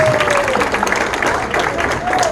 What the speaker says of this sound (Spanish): Un aplauso a la pastora Ivette López.